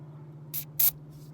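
Two short hissing spurts of Blaster penetrating oil are sprayed onto a stuck wiper pin on a Scout 800, the second slightly longer, over a steady low hum, with a faint third puff after.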